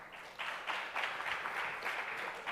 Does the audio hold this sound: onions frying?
no